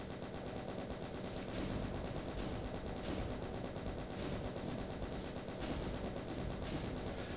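Continuous rapid gunfire in a video game with cacodemons rattles on without pause, a steady dense barrage of shots at even loudness throughout.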